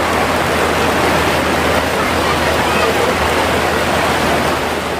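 Water gushes at full flow at a crowded Shiv Mahapuran katha gathering in Gandai, a loud, steady, close roaring rush that fills the whole stretch without pause.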